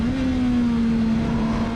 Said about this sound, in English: Listen to that CBR engine sing.